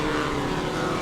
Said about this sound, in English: these are air-cooled Volkswagen engines in these cars